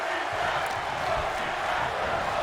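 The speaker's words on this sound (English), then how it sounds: "the crowd showing their appreciation for both Sapp and Bedlam right now" A WWE 2K23 wrestling arena crowd roars in a constant, dense wash of cheering, steady and even for the whole moment.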